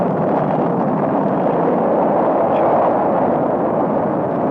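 Space-race-era rocket engine igniting at launch, a steady, loud, broad roaring rumble that holds unbroken throughout.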